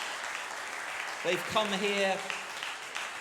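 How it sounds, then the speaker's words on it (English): Audience applause for the contestants at a young theatre organist competition, a steady wash of clapping running through the clip while someone speaks over it midway. "Let's give them a big round of applause."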